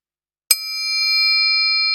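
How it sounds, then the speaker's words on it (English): A single bright bell strike at a startup pitch competition stage marks the end of a timed pitch, a sharp ding followed by a long, clear ringing tone that sustains without fading. "they will hear this bell"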